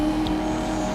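A car in the racing game Need For Speed Most Wanted roars with a steady engine drone during a race, loud and continuous for a brief moment.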